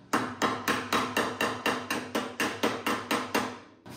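Rapid, evenly spaced metallic strikes of a body slapper on the sheet metal of a 1966 Triumph GT6, about a dozen in a row, ring out close by with a steady rhythm and no talking.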